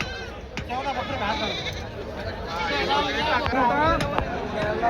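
Goats bleat repeatedly at a busy livestock market in Parbhani, several wavering calls near and far over a steady hubbub of people talking.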